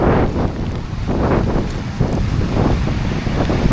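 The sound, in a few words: strong wind during a coastal rain storm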